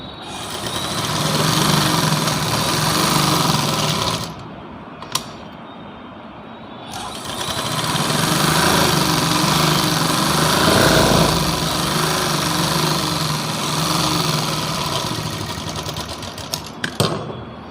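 A sewing machine stitches suit fabric for an angrakha-style top. Its motor whirs loudly and steadily nearby, stops briefly in the middle, then runs again, with a few small clicks near the end.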